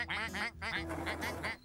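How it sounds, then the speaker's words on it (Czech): Several loud, nasal duck quacks in quick succession, close and clear. "Podívej, jsou tu kachny!"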